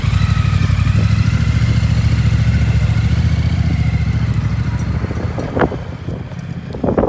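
A Triumph Speed Twin motorcycle rides off, its steady engine rumble loud and close at first, then gradually easing as it pulls away, with wind buffeting the microphone.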